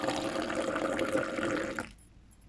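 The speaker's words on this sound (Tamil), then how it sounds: "அப்புறம் நல்லா இதை மிக்ஸ் பண்ணி விட்டுட்டு ஒரு டம்ளரை வச்சு ஆற்றி விட்டுக்கலாம்." Coffee poured back and forth between tumblers to froth it, a steady splashing liquid stream that carries on for about two seconds, then stops abruptly.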